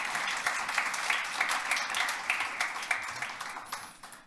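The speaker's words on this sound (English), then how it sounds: "Can we start by giving him a round of applause?" Audience applause at the 2024 Bob Marley Day awards in Toronto: a crowd claps steadily with sharp individual claps poking through, then the sound thins and fades out toward the end.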